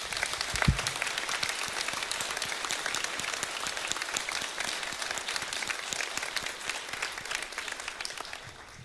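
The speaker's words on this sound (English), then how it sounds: "let's give this group of students one more round of applause" A school auditorium crowd claps for graduating seniors at an awards night, giving steady, dense applause that carries on throughout at an even, moderately loud level.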